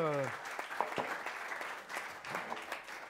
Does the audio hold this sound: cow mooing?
no